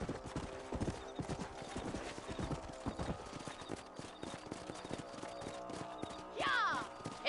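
A horse gallops in Red Dead Redemption with rapid, rhythmic hoofbeats close by, a whinny near the end, and voices talking over the ride.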